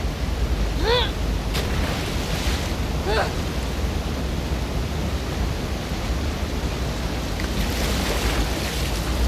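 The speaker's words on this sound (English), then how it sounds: "swimming to the aquarium as Ellie when you were avoiding the waves." Water current and surging waves in the video game The Last of Us Part 2, near a flooded aquarium: a steady, loud wash of rushing water and surf with no pauses, plus a couple of brief chirpy tones early on.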